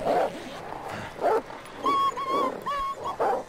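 Wolves in the survival video game The Long Dark bark and yelp in a string of about six short, sharp bursts, some ending in whining tonal cries, moderately loud and fairly near, with no talk.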